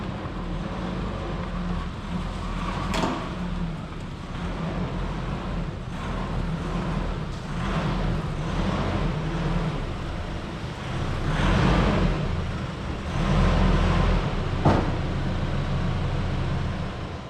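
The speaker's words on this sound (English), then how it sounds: "I'm actually going to do that by using my Navara and pushing the car from behind" A Nissan Navara pickup pushes a car with locked differentials from behind, giving a steady, fairly loud engine rumble with road and wind noise throughout and a couple of sharp knocks along the way.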